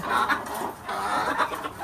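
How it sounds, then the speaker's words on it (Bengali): Native hens cluck eagerly and continuously at close range as they scramble for food, a busy overlapping chorus of short calls. "খাবার জন্য মুরগি সব লাফলাফি করতেছে"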